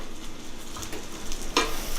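Mushrooms sauté in a pan, giving a close, steady sizzle with light stirring clatter and one sharp utensil knock near the end.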